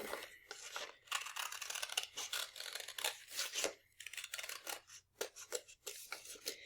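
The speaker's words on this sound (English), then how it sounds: "I'm going to take my scissors and I'm going to cut that circle" Scissors cut out a paper circle in a run of quick, close crisp snips with slight paper rustling between strokes and brief pauses.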